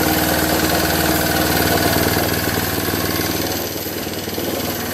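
A Tecumseh 6.5 HP go-kart engine idles steadily and loud up close, a continuous throbbing drone that eases slightly toward the end, with no talking.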